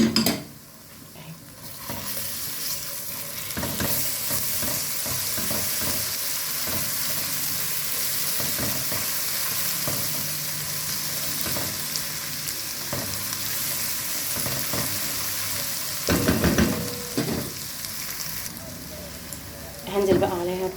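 Garlic sizzles and fries steadily in a hot pan, a continuous crackling hiss with occasional stirring scrapes and clinks, while a person talks over it.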